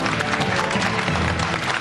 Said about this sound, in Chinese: 让我们再次用掌声欢迎这两位优秀的演员